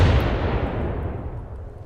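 Heavy naval gunfire booms from a warship's rear turrets in a naval combat video game, a dense, rumbling roar that fills the whole clip and slowly tails off, with no talk over it.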